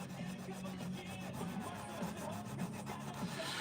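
Guitar fret being sanded with abrasive grit after crowning, a faint, close, steady rubbing scrape with quick repeated strokes and no talking.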